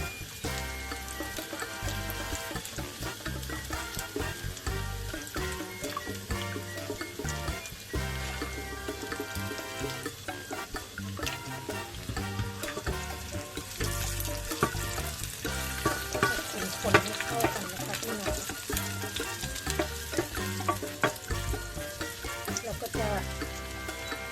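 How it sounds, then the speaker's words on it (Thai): Spices and food sizzle and crackle steadily while frying in a pot for a Sri Lankan-style eggplant curry, with stirring scrapes throughout and no talking. "ทอดให้เหลืองนะคะ แต่ว่าเรามาทอดในหม้อ"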